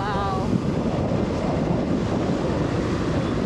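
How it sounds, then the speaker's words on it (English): Blustery wind roars across the microphone over the steady wash of ocean waves at a Thai beach, a constant loud rush with no clear breaks. "It's a little windy today, so the waves are rocking."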